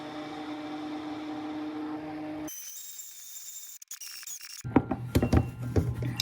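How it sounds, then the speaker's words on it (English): An immersion blender whips cream with a steady, buzzing motor drone for a couple of seconds. It then cuts off, and close clattering and knocking follow. No one speaks. "I'm gonna use my immersion blender today."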